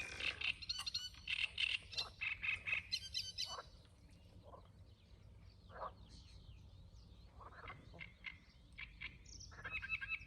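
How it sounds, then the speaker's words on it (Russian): Toads croak around a lake in repeated rattling bursts, loud and close at first, then sparser and softer, with a few chirping calls mixed in and a fresh round of croaks at the end. "Блин, так хочется этих жаб прогнать отсюда."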